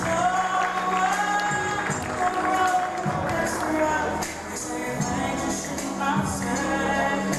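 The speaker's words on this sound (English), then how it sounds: "Let's give them all a round of applause, please." An audience applauds and cheers for supporters at an MBU event, a busy wash of clapping mixed with voices and music-like tones throughout.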